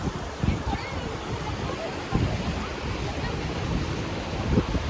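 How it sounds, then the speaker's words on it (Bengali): Flowing Ganges water in a mountain valley near Rishikesh, heard as a steady broadband rush with wind buffeting the microphone and a few louder swells. "জলের কি আওয়াজ!"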